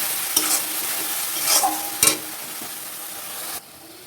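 Ground spice paste with prawns sautéing in a pan, a loud close sizzle broken by a few sharp scraping stirs, then cutting off abruptly near the end.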